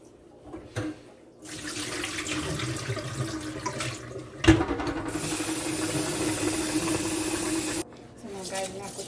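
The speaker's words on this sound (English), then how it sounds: "wash my rice to get out most of the starch out of it" Rice being rinsed in water at a kitchen sink, with a steady running, splashing wash of water for most of the stretch, a brief sharp knock midway, and quieter moments at the start and end; speech faintly present.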